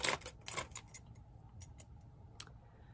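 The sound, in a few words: keys jangling, including car keys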